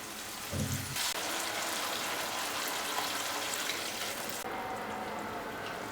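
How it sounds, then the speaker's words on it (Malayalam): Vinegar and half a cup of water are poured into a pan of wild lemon pickle on the stove, giving a brief splash, then a steady hissing sizzle that carries on alone. "ഇനി ഇതിലേക്ക് വിനാഗിരിയും 1/2 കപ്പ് വെള്ളവും കൂടി ചേർത്തൊന്ന് തിളപ്പിക്കാം."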